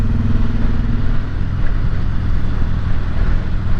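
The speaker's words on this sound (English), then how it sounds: "So these bikes actually have a pretty cool sound to them right out of the box" A stock-exhaust 2018 Harley-Davidson Sport Glide motorcycle engine runs steadily and loudly up close, a low rumbling drone with some wind noise from riding.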